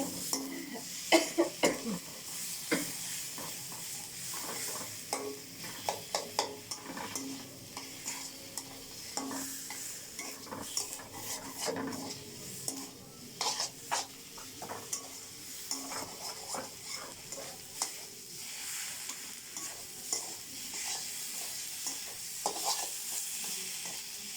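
Spices with ginger paste sauté in a pan, a soft sizzle under repeated scraping stirs and light clinks of a utensil against the pan, fairly quiet and close, with no talking.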